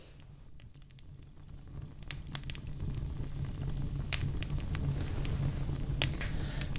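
A campfire burns close by with a steady low crackle and hiss, punctuated by sharp irregular pops and snaps of burning wood, with no one talking.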